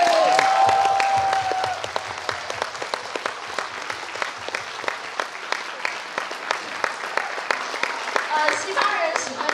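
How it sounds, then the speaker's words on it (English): Applause from a school winter concert audience fills the hall, dense, steady clapping that holds for about ten seconds after an opening voice fades, with no other talk. "So let's give a massive, massive round of applause to our music department."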